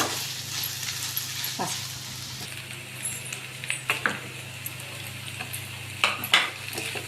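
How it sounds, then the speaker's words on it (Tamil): Mango and ginger pickle mixture sautéing in a kadai, a quiet sizzle under a low hum, with occasional scraping stirs and spoon knocks against the pan. "இப்போது நல்லா இதை வந்து நல்லா வதக்கணும்"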